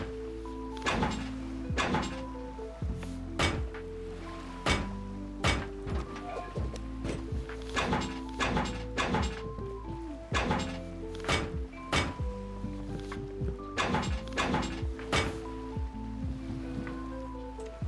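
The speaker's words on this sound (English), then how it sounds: "Moving up through the engines, you want to seal all of your doors and windows now." Repeated wooden thunks and knocks as doors and windows are sealed on a boat base in the video game Rust, irregular closely spaced hits over a low steady background hum.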